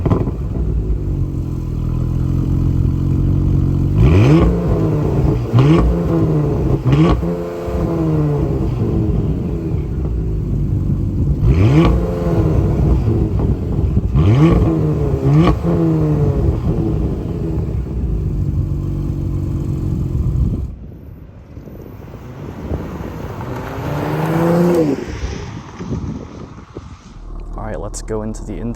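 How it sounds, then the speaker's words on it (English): The quad exhaust of a 2022 Porsche Macan GTS rumbles deep and throaty, swelling into several revs with burbling pops, then settles to a quieter idle near the end. "You can hear that amazing exhaust sound from outside."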